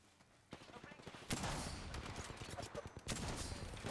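Rapid bursts of gunfire from the video game Apex Legends in a ranked match, sharp repeated shots running almost continuously at close range, with a voice talking faintly beneath.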